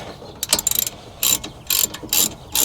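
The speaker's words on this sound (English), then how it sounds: "Now we're gonna tighten our pins back down." Quick bursts of ratchet clicking as brake caliper pins are tightened on a Nissan 350Z, a few short runs of dry metallic ticks with pauses between, close and fairly loud, no voices.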